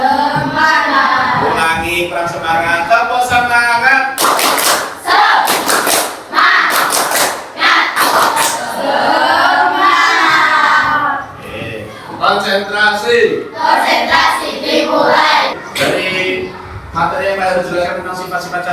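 A group does a rhythmic spirit clap in a class, loud broadband bursts of clapping falling in quick patterned clusters, with voices talking and chanting throughout.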